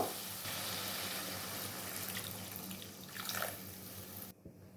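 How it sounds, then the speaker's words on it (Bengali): Water is poured into a pan of Bengali fish curry with fried potatoes already cooked in the spice base, a steady close-up splashing and running flow that fades near the end. "এই যে জল দিয়ে দিয়েছি"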